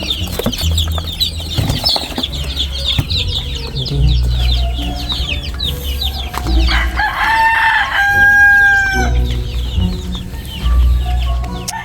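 Chickens on a farm cluck continuously close by while a rooster lets out a loud crow partway through, over a low background hum.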